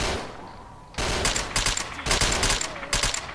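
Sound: gunfire from the video game STALKER: Shadow of Chernobyl

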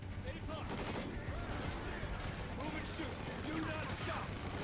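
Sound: gunfire in video game Call of Duty Ghosts

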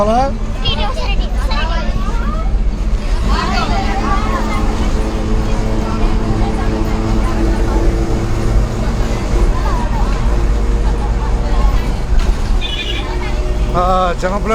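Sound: inside a moving bus from Tenali to Chinapulivarru

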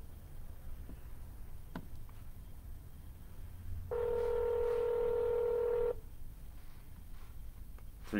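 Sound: telephone keypad dialing tones

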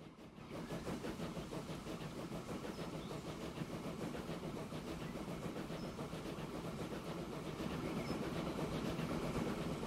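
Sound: train running on rails in video game Transport Fever 2

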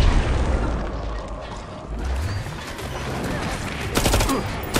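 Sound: gunfire in a video game

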